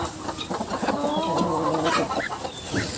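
A hen at a poultry yard with guinea fowl chicks clucks several times close by, low throaty calls over a soft rustling farmyard background.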